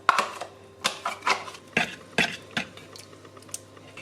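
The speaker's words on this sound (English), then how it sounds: "I'm using a fork to smash the pumpkin and make this an even mixture" A fork mashes cooked pumpkin in a bowl for a Swedish-style pumpkin pie, giving a run of soft, irregular scraping taps against the dish, close and fairly quiet, with no voices.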